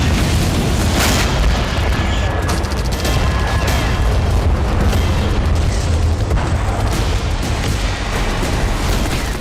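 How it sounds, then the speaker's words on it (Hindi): Israeli tank fire on a building in northern Gaza, a dense, loud, continuous roar of blasts and rumbling booms with crackling bursts throughout, no clear voices. "इजराइल के टैंक ने उस इमारत को निशाना बनाया जिसमें हमास की स्नाइपर पोस्ट थी।"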